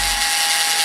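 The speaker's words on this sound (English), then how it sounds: "I'm gonna use my gentle electric screwdriver." Electric screwdriver snugging bolts on a Suzuki RF 1100 motorcycle, one brief continuous high-pitched whir, close and fairly loud.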